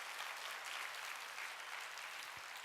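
A church congregation at a Sunday worship service claps in a dense, steady burst of applause, fairly distant and even, with no talk over it.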